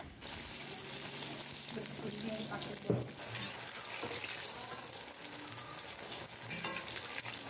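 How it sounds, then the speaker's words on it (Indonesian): Eggplant pieces frying in hot oil, a continuous bright sizzle with occasional pops and a brief clatter of stirring, with a voice talking faintly over it. "Nah ini goreng terongnya sebentar saja ya teman-teman sudah warna kecoklatan seperti ini boleh kita angkat"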